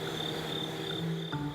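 Crickets chirping steadily at dawn outdoors, a continuous layered high trill with a low croaking undertone, even and moderately loud throughout.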